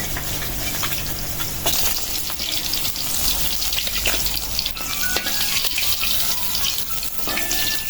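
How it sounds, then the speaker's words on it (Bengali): Dried red chili and a bay leaf frying in leftover fish-frying oil, a steady loud sizzle and crackle running throughout, with faint clinks of utensils in the pan. "এই মাছ ভাজা তেলেই দিয়ে দিলাম শুকনা মরিচ একটা তেজপাতা"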